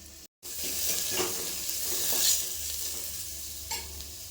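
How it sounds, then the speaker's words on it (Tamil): Cumin and pepper paste stirred and frying in hot oil for rasam, a steady loud sizzle with scraping stir strokes, a brief cutout near the start, no talk. "சேர்த்து இந்த எண்ணெயில் ஒரு பெரட்டிட்டு நம்ம புளி கரைசலை ஊற்றிடணும்."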